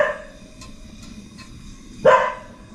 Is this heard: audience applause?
no